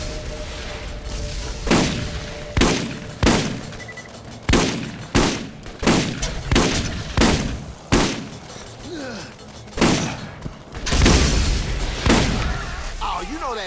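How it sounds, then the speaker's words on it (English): Loud, evenly spaced gunshots in the video game Borderlands, about a dozen heavy booming reports a second or so apart, with some echo and a player's voice in between. "Who's shooting?"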